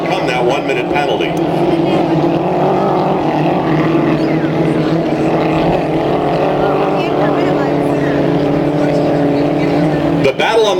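Unlimited hydroplane racing boats at the Hydrofest race course run a loud, steady engine drone throughout, with a race announcer talking over the top.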